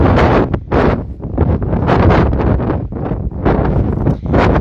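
Strong desert wind buffets the microphone in a steady roar with gusty surges, loud and close, with no voices.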